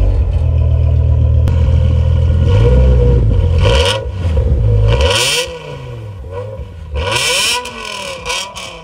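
BMW M5 E60 with its V10 engine starts with a low rumbling idle, then several sharp revs rise and fall in pitch, loud and close, with brief quieter pauses between blips and no talking.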